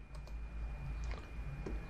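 Faint, sparse computer mouse clicks come in a few light taps in a quiet room while working in Lightroom.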